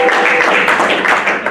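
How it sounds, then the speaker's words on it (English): Audience applause after an elder's church-style talk: a dense, even wash of many hands clapping, loud and close, sustained through the whole brief moment. "And you hear the clap"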